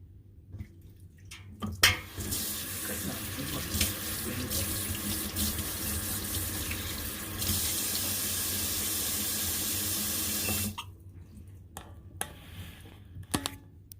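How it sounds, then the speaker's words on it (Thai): Tap water runs steadily into a kitchen sink while spider flower greens are washed, a close hiss with splashing and rinsing that cuts off abruptly, leaving a few drips and soft handling sounds. "ดี๋ยวขอเวลาล้างผักเสี้ยนแป๊บหนึ่งนะคะ"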